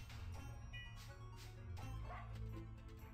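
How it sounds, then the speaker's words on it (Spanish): A dog barks in the video game Battle Princess Madelyn: a few short, yappy barks over a busy game soundtrack, soft in the mix. "¿y el perro por qué ladra"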